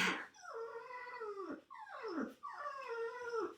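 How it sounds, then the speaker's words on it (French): A pet dog howls nearby in three long, wavering, rising and falling notes, each ending in a brief pause, like singing, with no talking over it. "vous avez droit à la chanson de mon chien"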